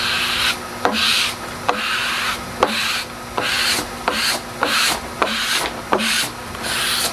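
Squeegee pressed and dragged over fresh pallet tape, giving steady rubbing, rasping strokes with sharp clicks between passes, close and fairly loud.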